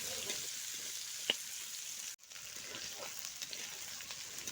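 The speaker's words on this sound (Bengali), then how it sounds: "প্রথমে আমি আলুগুলোকে দিয়ে একটু লাল করে কিন্তু ভেজে নেব" Small cut potatoes fry in hot oil with a soft, continuous sizzle. A single brief tick and a momentary drop in the sound interrupt the otherwise even frying, and there is no talk.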